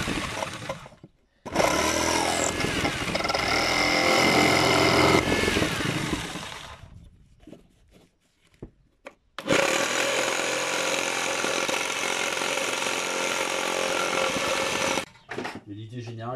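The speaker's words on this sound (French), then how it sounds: "j'ai une scie sabre, et puis je coupe les clous tranquillos" Loud bursts of a reciprocating saw cutting through nails, two long sustained runs separated by a pause with softer handling noise, close up.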